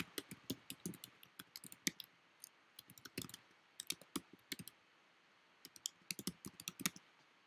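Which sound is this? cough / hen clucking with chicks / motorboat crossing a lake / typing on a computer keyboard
typing on a computer keyboard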